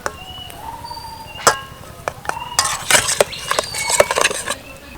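A spoon clinks against a container while sugar is added to water for jol fulki, giving a few sharp taps and light metallic chimes spread over a quiet background.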